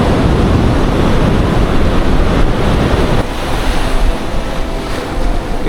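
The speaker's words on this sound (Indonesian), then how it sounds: "Jadi di sini tuh pantainya di pinggir tebing seperti itu." Steady loud surf and wind on a white sand beach at the foot of a cliff at Watunene, Gunungkidul, with waves washing continuously and no voices.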